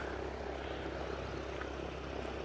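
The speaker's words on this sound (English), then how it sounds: "I saw the B-17 flying" Vintage B-17 bomber flying overhead at a distance, a constant broad droning roar of piston engines with no breaks.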